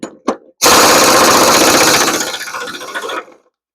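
Rapid ratcheting rattle of a socket wrench set to reverse, spinning off a 5/8 blade bolt under a Poulan Pro lawn tractor deck; two short clicks, then a loud, close, continuous buzzing burst lasting about three seconds before tapering off.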